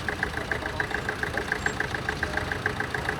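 A vintage tractor in the current contracting business since 1959, nicknamed Nellie, runs at a steady idle-like chug in a steam fair parade in Dorset, with rapid regular knocking pulses over a constant low engine rumble.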